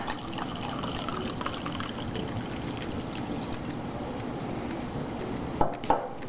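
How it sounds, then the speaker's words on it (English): Pinot Grigio white wine poured into a measuring cup in a home kitchen while cooking shrimp fra diavolo, a steady faint trickle of liquid running for several seconds, ending with a few light clinks of glass or utensils. "So we're going to pour out 1 cup."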